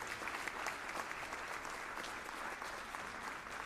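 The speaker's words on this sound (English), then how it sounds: "How about a round of applause for them?" Applause from a university School of Music jazz audience for the dean and director, steady crowded clapping sustained throughout, moderately distant and fairly soft.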